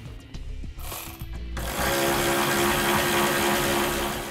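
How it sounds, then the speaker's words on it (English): A ratchet driving a 10 mm socket unscrews a bolt during a trailer hitch installation on a 2014 GMC, with a few light clicks first, then a loud, steady mechanical rasping that runs to the end. "you can use a 10 millimeter socket to unscrew it from the bind"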